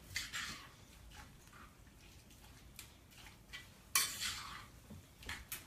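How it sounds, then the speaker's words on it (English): A spoon stirs salsa verde in a pot, giving soft scraping and light clinks of utensil against metal, faint and intermittent, with one sharper knock partway through. "So we're gonna give that a stir."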